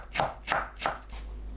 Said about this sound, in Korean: 홍고추도 둥글고 얇게 썰어줍니다.